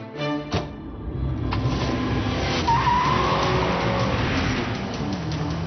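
A 1986 Corvette with a zip-front body tears down a drag strip, engine roaring loud and close with tire squeal and skidding throughout, a rising whine building midway.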